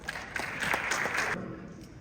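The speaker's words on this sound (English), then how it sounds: "Please welcome him with a huge round of applause." Audience applause at an India Day celebration marking CISE's 50th anniversary in Edmonton, a dense patter of clapping from a crowd that swells briefly and then cuts off into quieter room noise.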